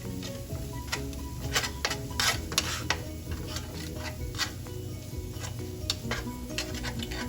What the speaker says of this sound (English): you want to just cook in that flour a little bit